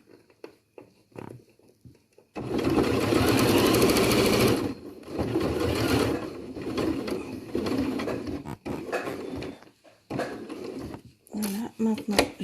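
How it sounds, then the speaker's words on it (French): Sewing machine topstitching around a shirt cuff, a loud, close whirring stitch run that starts abruptly and continues in bursts, stopping and restarting as it pivots around the cuff, with a voice talking in between. "je vais faire tout le tour de mon poignet et cela va me permettre en même temps de rabattre et de surpiquer"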